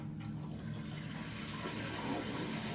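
Water pours steadily into the roughly 10-liter tank of a laboratory water purifier, a constant close hiss and rush with no pauses.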